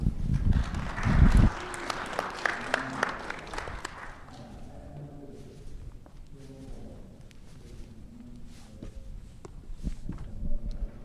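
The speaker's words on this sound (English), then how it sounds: "Please welcome him with a round of applause." Conference audience applause in a hall in Las Vegas, loudest at the start and fading within a few seconds into scattered footsteps and room noise.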